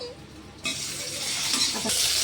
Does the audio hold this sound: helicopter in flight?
no